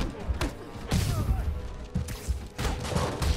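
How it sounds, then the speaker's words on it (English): Bursts of rapid gunfire crackle through a busy Spider-Man video game soundscape, with thuds and crashes mixed in and a voice talking over parts of it. "Whoa, who's shooting at me?"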